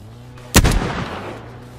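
A single gunshot sound effect from an anime fan dub cracks out loud and close, followed by a short decaying echo over a low steady background hum.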